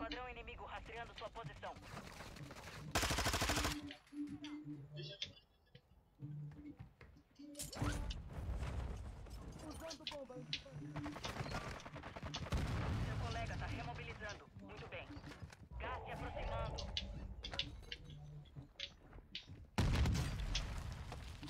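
A shooting video game fires in sharp, booming bursts and rapid volleys, loud and close, with players talking excitedly throughout.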